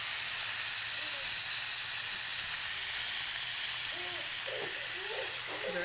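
A tomahawk ribeye steak sizzles loudly and steadily on a Blackstone griddle, a dense continuous hiss, with faint voices in the background.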